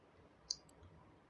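A single sharp computer mouse click while filling in an online application form on a website, very faint and close in a quiet room, followed by a couple of softer ticks, with no talking.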